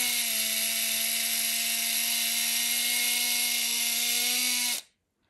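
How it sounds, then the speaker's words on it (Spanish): A small electric STEM hobby motor spins at full speed with a steady high-pitched whine lasting several seconds, then cuts off abruptly into silence. "es un motor de verdad y funciona perfectamente"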